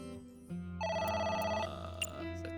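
A telephone rings in the AI: The Somnium Files video game, a steady electronic tonal ringtone that grows louder partway through and carries on to the end, with no voices over it.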